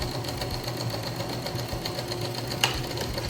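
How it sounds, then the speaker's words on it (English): A sewing machine runs steadily at close range while stitching a railroad zipper seam, giving a continuous even mechanical whir with one brief sharp tick partway through. "Now I'm gonna finish sewing."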